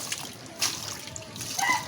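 Water trickling and splashing lightly while washing outdoors in the rain, soft intermittent dribbles and splatters close by with faint background noise.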